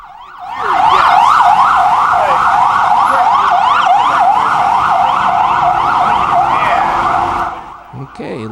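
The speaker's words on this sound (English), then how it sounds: "You'll hear emergency vehicles all the time, sirens wailing for this, that, or the other." Emergency vehicle sirens wail loudly and continuously on a New York City street, a rising-and-falling electronic siren sweeping steadily for several seconds over distant traffic before cutting off.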